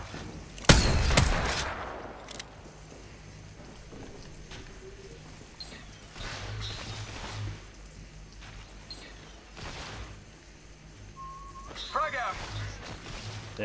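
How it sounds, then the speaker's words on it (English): Gunfire in the video game Apex Legends comes from a team down the hill, opening with a loud close burst, then scattered fainter shots and game sounds under voice chat. "There's a team down the hill shooting at them."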